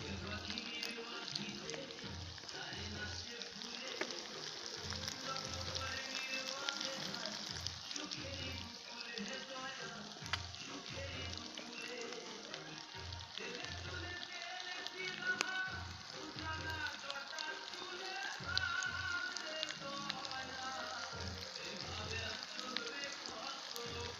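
Desi-style chicken kosha sizzles gently in a pan over a low flame, a soft steady frying hiss with faint rhythmic stirring knocks throughout, fairly quiet and close.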